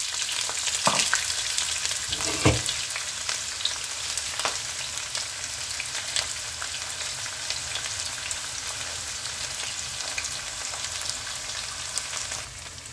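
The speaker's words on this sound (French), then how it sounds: "Mes oignons. Je les mets dans la poêle" Onions frying in a frying pan for a tomato sauce for pork shoulder, a continuous bright sizzle with a few sharp clatters early on, steady and close throughout.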